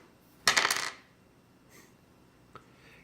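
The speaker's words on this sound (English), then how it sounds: "I will roll these dice" Dice being rolled for the Advanced Squad Leader board game: a short clattering burst of dice tumbling on a hard surface, then settling, followed by a faint single tap.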